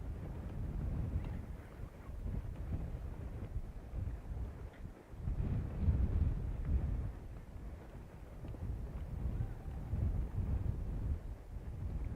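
Strong wind gusting across an outdoor microphone on the Space Coast, Florida, ahead of a SpaceX Falcon 9 launch, a steady low roar that swells and dips in waves for the whole stretch with no talking.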